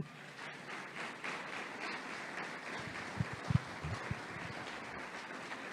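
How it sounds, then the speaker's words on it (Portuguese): A church congregation applauds together, a steady, fairly faint wash of clapping that carries on throughout, with a few soft low thumps partway through. "Vamos aplaudir Jesus bem forte."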